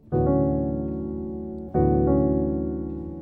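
Two sustained piano chords, the first a D6/9, ring out, each with a quick grace note slipped in just after it, close and resonant with no voices; gospel jazz voicings.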